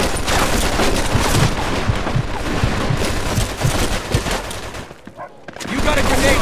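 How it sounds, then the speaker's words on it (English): Machine gun fire rattles in a World War II street battle in the game Mafia 2, with sustained rapid bursts and heavy impacts. The fire is loud and continuous, has a brief lull near the end, and voices can be heard faintly in the mix. "Looks like we found the machine gun."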